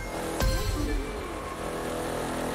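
A car engine revving and crackling as it accelerates in the racing video game The Crew 2, loud and continuous with a sharp burst near the start and rising engine tones throughout.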